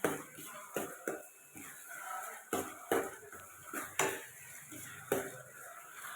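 A spoon stirs prawn and raw banana curry in a pan, giving soft, fairly quiet clanks and scrapes against the metal every second or so, with no talking.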